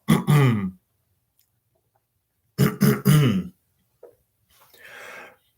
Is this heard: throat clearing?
yes